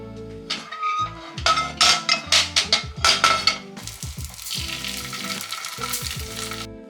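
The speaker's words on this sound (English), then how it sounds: "When you pan fry the tofu, try not to disturb it in the first couple of minutes." Tofu coated in potato starch pan-fries with loud crackling sizzle, opening in a burst of rapid pops and clinks that settle into a steady, dense hiss.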